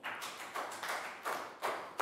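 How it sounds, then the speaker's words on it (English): A class of Year 3 pupils claps in several quick bursts of applause, moderately loud and somewhat diffuse, with short gaps between rounds. "big round of applause for Pangpon"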